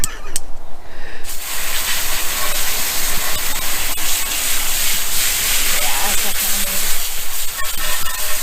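A water jet rinses dirty car wheels during washing, giving a steady, loud broadband hiss and spray that runs throughout, close and continuous with slight splashy variation.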